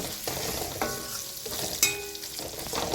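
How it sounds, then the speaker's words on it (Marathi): Onion frying and being stirred in a pan while making simple village-style noodles, a steady close sizzle with scraping stirs and a couple of clattering utensil knocks. "आता एक कांदा चांगला भाजून घ्यायचा बघा."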